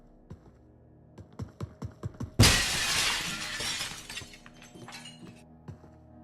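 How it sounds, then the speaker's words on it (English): In a video game, a series of sharp, evenly spaced impacts leads into a loud crash of breaking glass, with shards tinkling and scattering as the noise fades over several seconds. "I also love the glass breaking noises"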